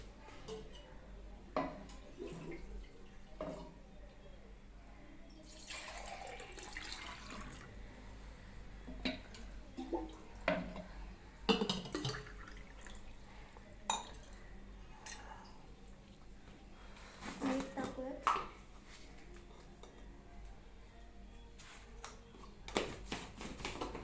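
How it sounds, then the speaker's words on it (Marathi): Water poured from an earthen clay pot (matka) into a vessel, heard as a few splashing, trickling bursts with quieter handling noise between them, close by and moderately loud. "चला तर आपण पाणी घेऊयात"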